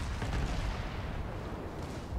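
The warship Novik fires its ship guns in a naval video game, heard as a dense, rumbling barrage of booms and blasts with no talk over it.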